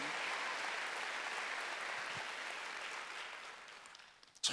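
Faint, distant clapping rises from the congregation at a Korean church Wednesday worship service, a soft steady patter that tapers off near the end.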